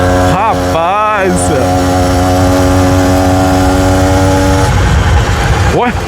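Homemade motorcycle powered by a brush cutter engine riding along a street, a loud, steady buzzing drone with pitch rising and falling as it revs, close to the microphone, while voices speak over it.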